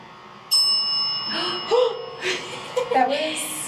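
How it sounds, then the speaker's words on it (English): A small desk bell in a haunted hotel rings once with a bright, clear ding that lingers briefly, and people talk quietly around it. "You can hit this bell if you want to talk to us. Can you get a little ring-a-ling?"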